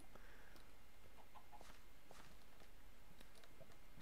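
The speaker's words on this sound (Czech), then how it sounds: "Slepice." Minecraft chickens give soft, scattered clucks amid crunchy in-game footsteps over a constant low background hiss, all faint.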